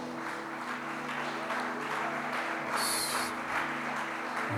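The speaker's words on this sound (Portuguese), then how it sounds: "Você pode glorificar o Senhor e aplaudir pela vida da sua mãe?" A church congregation applauds for mothers during a sermon, with continuous moderate clapping over a steady low hum, a brief bright burst partway through.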